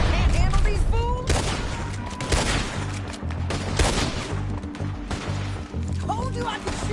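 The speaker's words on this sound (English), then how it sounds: "Told you I could shoot a gun" A rapid volley of gunshots in Red Dead Redemption 2, loud, close cracks and booms firing in quick succession, with voices speaking between the shots.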